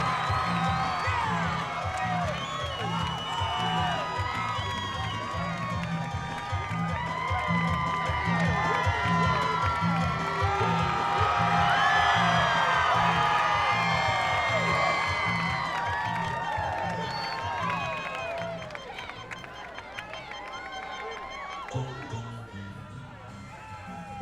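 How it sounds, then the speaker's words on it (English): A boxing arena crowd rises in a standing ovation, sustained cheering, whistles and shouts swelling to a peak before fading, with a commentator's voice running underneath. "The crowd stands in ovation."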